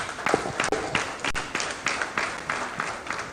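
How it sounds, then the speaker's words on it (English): Audience applause at a book launch: a crowd clapping steadily and fairly close, dense overlapping claps with a few sharper individual hits, continuing throughout. "can she have another round of applause, please?"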